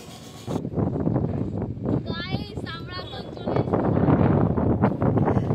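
Strong seaside wind at Talsari near Digha, among many boats, buffets the microphone in a constant loud rumble while a person talks over it.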